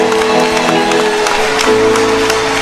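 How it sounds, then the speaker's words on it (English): A church congregation claps together for Jesus: steady, dense applause with sharp hand strikes, over sustained musical tones from instruments in the hall. "If you are not a witch, clap for Jesus."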